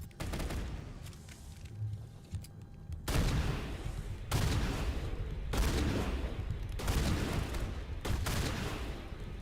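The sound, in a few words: shotgun firing in a video game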